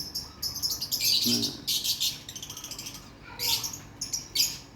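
Birds chirp and tweet in front of a house among trees, bright high calls coming in repeated bursts with short pauses, fairly close, with one short spoken word at the start.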